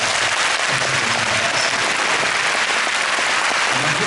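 Audience applause in a concert hall for an orchestra, a steady broadband wash of many hands clapping that holds at full strength for the whole stretch.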